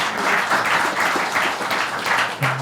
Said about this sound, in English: Another applause for Robert.